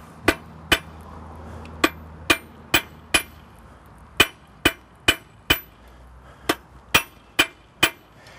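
A blacksmith at a colonial-era forge strikes metal on an anvil, sharp ringing clinks in an uneven rhythm, about fifteen loud blows close by with short gaps, no voices.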